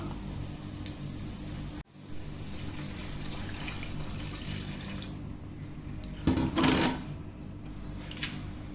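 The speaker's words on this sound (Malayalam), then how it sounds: "ഞാനൊരു കപ്പ് വെള്ളം അതിൽ ആഡ് ചെയ്യുന്നുണ്ട്" A cup of water poured into a hot pan of masala bread on the stove, a steady hiss with a brief louder splashing burst near the end.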